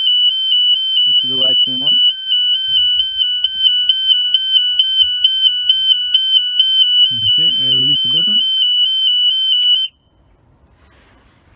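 A Niftylift cage overload alarm gives a loud, steady electronic tone that sounds continuously for about ten seconds and then cuts off abruptly. Someone talks briefly over it.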